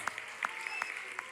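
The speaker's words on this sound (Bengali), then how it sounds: "তোমরা নিজেদের জন্য একটা জোরে হাততালি দাও প্রথমে" Applause from a college festival crowd at a live Bengali folk band concert: a short burst of scattered, fairly faint clapping with a few distinct claps standing out.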